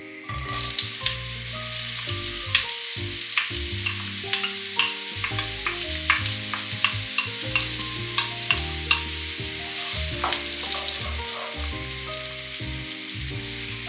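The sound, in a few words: onion frying in melted lard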